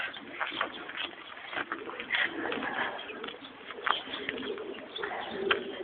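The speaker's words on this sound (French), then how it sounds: "il y a des pigeons en bas" Pigeons cooing amid a busy, muffled outdoor background, soft murmuring coos recurring throughout at moderate distance.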